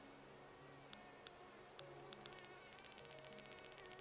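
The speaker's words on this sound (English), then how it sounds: "I hear the mosquito again." A mosquito buzzes at night in the Animal Crossing: New Horizons video game, a faint, thin insect whine over soft background game music with a few small clicks.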